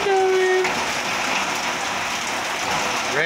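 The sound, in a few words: rain falling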